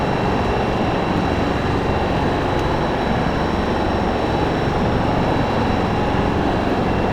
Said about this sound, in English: Now the afterburners are working and we're picking up speed.